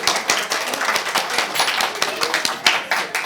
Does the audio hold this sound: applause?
yes